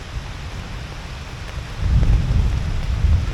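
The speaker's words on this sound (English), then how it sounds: "It's raining now!" A thunderstorm on the Appalachian Trail brings steady rain hissing on a surface, with a deep rumble of thunder swelling up partway through and rolling on loud and close.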